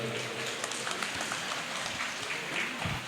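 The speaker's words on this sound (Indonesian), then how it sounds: "Tepuk tangan untuk beliau." Applause from the audience at a university graduation ceremony in Asahan, greeting a regent; fairly quiet, steady crowd clapping for a few seconds, heard somewhat distant in a large hall.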